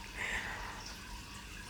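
Liquid pours in a steady, soft, continuous stream, faint and close, with a slight splashy rise early on and no talking.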